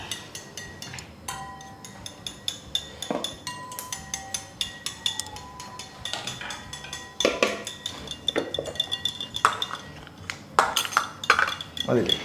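Eggs with salt and pepper powder are gently beaten in a bowl for a butter garlic egg dish, giving quiet, irregular clinks and taps of utensil against the bowl that grow busier toward the end.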